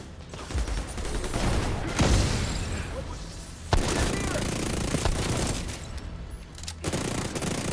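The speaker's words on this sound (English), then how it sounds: "I'm throwing a grenade!" Grenade blast and gunfire in The Division 2, a loud sustained barrage of rapid shots with sharp booms near 2 and 3.7 seconds, a character's voice shouting over the fighting.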